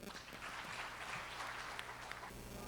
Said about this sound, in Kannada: ಬನ್ನಿ, ಜೋರಾದ ಚಪ್ಪಾಳೆ.